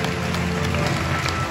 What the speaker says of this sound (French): Vous pouvez vous applaudir très fort, encore mieux.